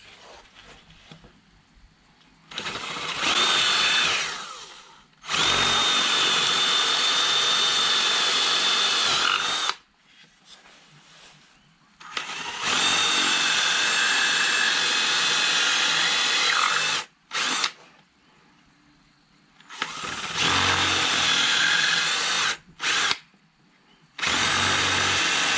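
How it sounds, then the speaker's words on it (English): Power drill boring holes into a wooden largemouth bass carving while hollowing the head and mouth for gills, in several loud bursts of whining drilling separated by short quiet pauses. "And then I just drill them out."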